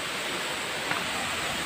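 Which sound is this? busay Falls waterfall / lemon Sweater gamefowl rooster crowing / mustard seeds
busay Falls waterfall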